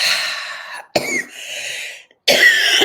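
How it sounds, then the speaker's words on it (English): Two or three breathy coughs brought on by a breathing exercise, close and fairly loud, separated by brief pauses. "sometimes you might get a little coughing that comes up"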